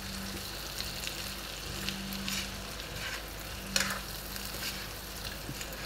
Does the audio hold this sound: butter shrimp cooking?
yes